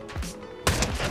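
Sniper rifle fire in the Fortnite video game: two sharp, loud shots in quick succession, each with a short echoing tail.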